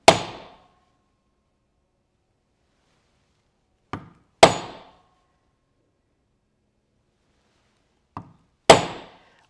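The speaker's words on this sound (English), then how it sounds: "I'm using a Barry King 24-ounce maul to set them" A Barry King 24-ounce maul strikes a Barry King double axe head leather stitching tool, three loud, crisp blows spaced about four seconds apart, each preceded by a faint light tap, with silence between and no voices.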